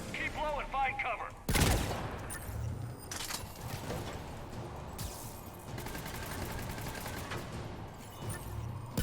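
Gunfire from an enemy-held mounted gun in Mass Effect 3 on Insanity difficulty: a dense, rattling fusillade of shots fills the clip with a sharp blast near the start, under shouted voices and battle noise.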